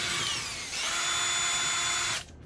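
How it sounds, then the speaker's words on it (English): A power drill whines steadily at high speed while drilling out pits in the hull of a Hallberg-Rassy 54 sailboat. The pitch shifts once partway through, then the drill winds down and stops. It is close and loud, with no talking. "I'm going to just drill and make sure I've got all the powder out."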